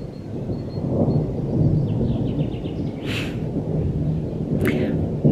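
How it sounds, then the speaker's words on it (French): Low, distant thunder rumbles continuously under a darkening sky before rain arrives, with a few short bird calls breaking through near the middle and end. "J'aime pas du tout le tonnerre comme ça"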